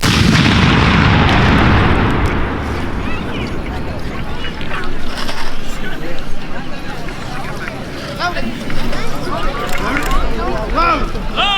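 Civil War reenactment artillery cannons fire at a battle reenactment, a heavy booming blast at the start that rolls and decays over several seconds, followed by distant crowd noise and shouted commands from gun crews.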